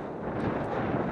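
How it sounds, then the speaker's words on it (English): Steady broadband wind rushing across the microphone on a frozen lake while ice fishing, a continuous roar with no pauses or voices. "It's cold and windy."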